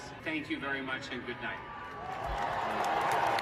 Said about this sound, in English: they finally clap when he leaves